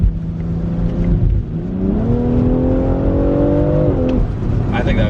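BMW X3M Competition on a 91 octane tune accelerating hard, engine pitch climbing through a gear, dipping at a shift and rising again, loud inside the cabin with a voice speaking over it.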